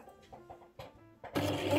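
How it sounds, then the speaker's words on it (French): Domestic sewing machine running a wide zigzag stitch to finish a fabric edge for a backless top, heard as a loud, steady mechanical whir that starts abruptly after some quiet clicks and stays close. "Donc pour surfiler, on se met sur un point large zigzag"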